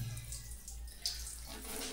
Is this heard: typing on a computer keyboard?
no